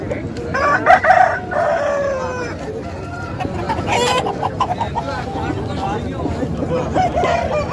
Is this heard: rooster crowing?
yes